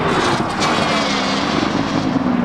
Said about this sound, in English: Corvette coming in hot.